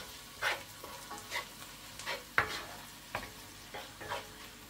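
Red pepper flakes, black pepper and salt stirred into an oily pan, a soft background sizzle broken by about eight distinct scraping strokes of a spoon at an unhurried, regular pace.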